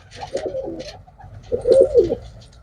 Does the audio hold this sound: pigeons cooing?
yes